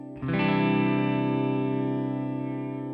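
One distorted electric guitar chord played through a shimmer effect swells in after a short attack and sustains brightly with a smooth, slowly fading, chorus-like tail.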